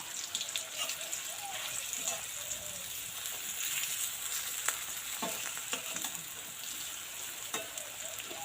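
Continuous crackling sizzle of yam kofta pieces frying in oil, with scattered pops and occasional scraping; a voice speaks faintly underneath.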